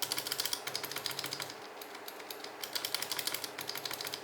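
Rapid clacking keystrokes on mechanical keyboard switches in quick bursts, close up, with a brief pause midway before the typing resumes.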